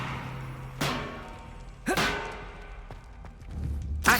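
Spells cast in the Hogwarts Legacy video game, including Levioso, land as sharp whip-like swooshes and thuds, two strong bursts followed by softer hits and a final crack, loud against quiet game ambience.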